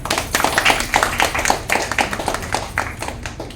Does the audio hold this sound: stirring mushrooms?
no